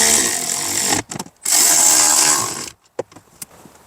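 A power driver tightens a screw on a blower motor resistor in a Ford F-150, loud whirring runs of about a second each with a short burst between, then scattered clicks and light handling noises.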